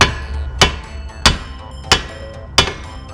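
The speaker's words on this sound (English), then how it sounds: "they're gonna pop the axle out like this with a sledgehammer" A sledgehammer knocks the axle out of a Mazda Miata's Torsen differential: four sharp metallic strikes, evenly spaced about two-thirds of a second apart, close and loud with no talk.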